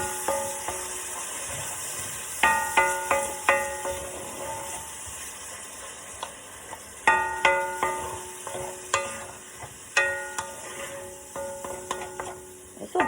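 Garlic and sausage cooking in a pan for a sausage, potato and green bean casserole: a continuous sizzle broken by repeated clinking utensil strikes against the pan in short bursts, close and fairly loud, with no talk.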